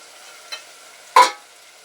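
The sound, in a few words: boiled mutton added to frying pan, stirring for gongura curry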